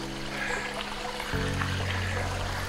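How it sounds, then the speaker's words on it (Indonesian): Small clear stream flowing along a forest trail near Curug Seribu waterfall in Bogor, a steady broadband trickle and gurgle under a low droning hum that strengthens partway through. "Masih banyak kita lewatin sungai-sungai kecil kayak gitu tuh"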